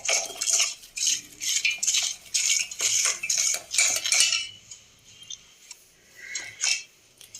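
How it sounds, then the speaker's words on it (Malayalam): A metal spoon clinks and scrapes steadily in a bowl as an evening snack mixture is stirred with water, in a quick regular rhythm of close bright strokes that pauses, then resumes briefly. "കുറച്ച് വെള്ളം ഒഴിച്ച് നന്നായിട്ടങ്ങ് ഇളക്കി യോജിപ്പിക്കാം."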